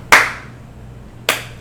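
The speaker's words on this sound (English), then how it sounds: "really? The slow, sarcastic clap?" Two slow, sharp hand claps ring out about a second apart, each loud and crisp with a short decay, a deliberate sarcastic clap with no voices.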